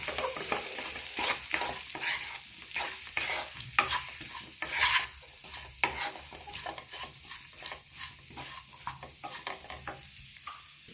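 Raw plantain sizzles and crackles steadily in a hot pan while a utensil stirs and scrapes through it, a continuous busy frying sound with no talking.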